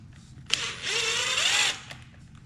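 A power drill backs out the lower C-hub screws on a Traxxas Maxx RC truck, one close whirring burst of about a second with a rising then falling pitch, preceded by a sharp click.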